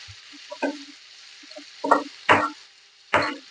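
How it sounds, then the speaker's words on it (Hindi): Sliced onion and slit green chilies frying for a dhaba-style baingan bharta, with quiet sizzling between four or five sharp scraping stirs and spatula knocks against the pan. "प्याज को हम हल्का ब्राउन भूनेंगे।"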